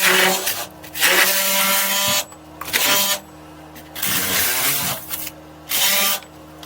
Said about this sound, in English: cut off the excess foam so I can put the inner skin to it.